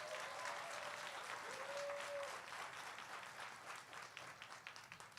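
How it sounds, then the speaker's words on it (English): An audience at a professional development homecoming event applauds steadily, a dense wash of clapping with a few cheers that stays fairly even and then slowly thins out toward the end. "Please give yourself a round of applause."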